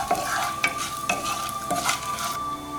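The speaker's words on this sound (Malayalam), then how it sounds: "ഇതെല്ലാം ചെറുതായിട്ടൊന്ന് ചൂടാക്കിയെടുക്കാം" Whole spices (cardamom pods, allspice, fennel seed and a chopped piece of cinnamon) heating in a pan for a Kottayam-style chicken stew, with a soft sizzle and repeated scraping stirs at a steady rhythm, close and fairly quiet.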